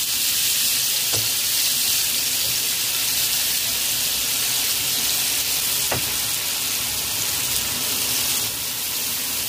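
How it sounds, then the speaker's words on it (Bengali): Marinated chicken fries in butter and white oil over a high flame, giving a loud, continuous sizzle throughout, broken by a couple of brief knocks from stirring. "এখানে হাই ফ্লেমে চিকেন ভেজে নিতে হবে।"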